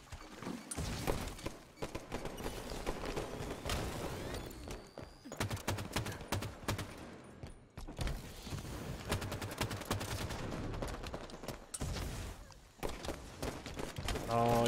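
Rapid bursts of assault rifle fire in a video game, dense fusillade-like volleys with mechanical clacks, loud and continuous across the clip, with excited voices talking over the shooting.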